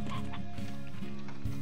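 Chickens in Slime Rancher cluck in quick, overlapping bursts, several birds close together over a steady game background.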